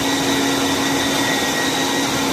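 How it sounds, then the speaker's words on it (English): An electric meat grinder runs a second pass of meat for Parmesan salami, giving a steady, loud motor whine with a constant hum and no pauses until it cuts off at the very end. "we're going to give this a second grind to just really beat this meat into submission"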